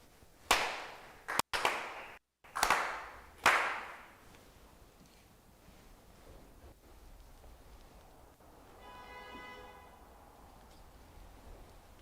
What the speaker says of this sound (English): Ichido Haire, 4 sincere claps together.